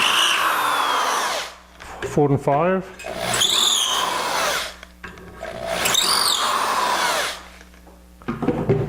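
A power drill bores dowel holes into a wooden table frame, whining in bursts with pitch rising and falling as it spins up, interrupted by pauses where a voice talks nearby.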